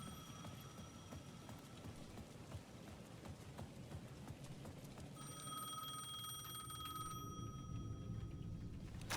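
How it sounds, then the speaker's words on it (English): A payphone rings in the video game Alan Wake 2, with steady electronic bell tones cutting in partway through over a dense, rumbling ambience at the edge of a plaza. "The payphone at the edge of the plaza was ringing again."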